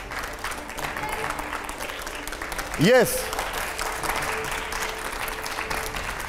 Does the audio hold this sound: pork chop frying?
no